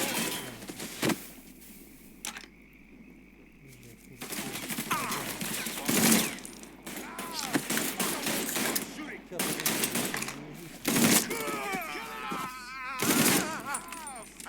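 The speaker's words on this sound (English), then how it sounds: "А это пулемет какой-то, нахуй, автомат." Automatic machine gun fire in the video game Mafia III, with loud rapid bursts recurring through the scene amid other game sounds and voices.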